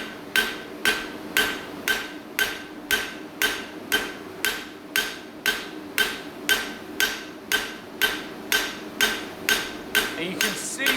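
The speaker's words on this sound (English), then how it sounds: "how the edge of the hammer, it actually prints into the steel ever so slightly." A hammer flattening steel on a forging surface, struck in a steady rhythm of about twenty sharp, ringing blows, each one loud and close with a short metallic decay, continuing throughout with no voices.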